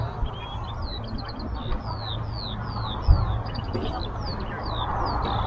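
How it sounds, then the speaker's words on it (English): Distant, faint skylark song with repeated high chirps and trills over a constant low outdoor rumble, no voices. "it's a skylark somewhere, a ground nesting bird"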